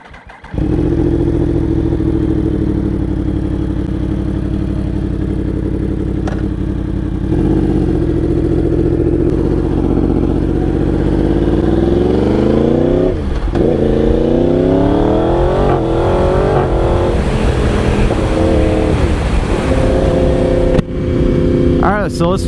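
A Yamaha R1 motorcycle engine drones loudly and steadily while riding, with a rider talking over it; engine pitch dips and rises midway as speed changes, amid wind rush.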